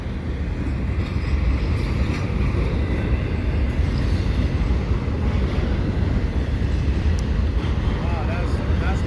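CSX and CN freight trains pass at Marshall Avenue, producing a loud, steady rumble of wheels and rolling cars that fills the whole stretch without letup.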